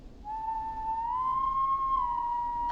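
A single sustained whistled tone in the video game Killer Frequency, rising slightly in pitch and holding steady for a couple of seconds over a low ambient hum, with no talking.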